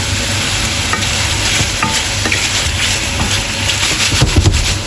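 Butter melting and sizzling loudly in a hot pan with shrimp, a dense continuous crackle with a few soft scrapes and bumps.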